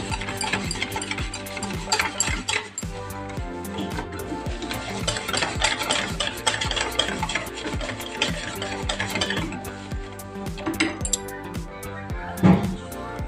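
Sugar being mixed into a junnu mixture, with a spoon stirring and scraping steadily around a bowl amid frequent light clinks and taps.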